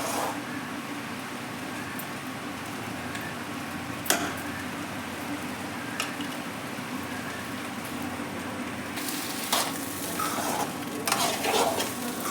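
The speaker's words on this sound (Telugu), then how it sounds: "మధ్య మధ్యలో ఇలా కలుపుకుంటూ ఉండండి" Fish eggs frying in a pan, a continuous soft sizzle broken by occasional sharp scrapes and clinks of a spoon stirring them, growing busier toward the end.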